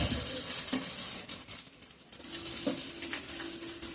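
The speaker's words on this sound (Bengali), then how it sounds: "প্রথমে আমি দিয়ে দেবো ভেজে রাখা গাজর আর বিনস।" Fried carrots and beans are added to a sizzling spice mix for vegetable khichdi, giving a steady close hiss of frying oil with soft stirring scrapes and clinks of a utensil against the pan.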